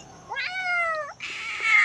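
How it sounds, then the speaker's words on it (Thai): A cat at a temple in Lampang gives one drawn-out, pleading meow, near and clear, followed by soft background noise. "ตาเหมียวนี่อ้อน"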